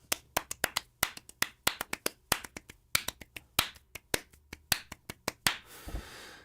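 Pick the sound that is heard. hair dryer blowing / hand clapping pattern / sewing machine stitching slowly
hand clapping pattern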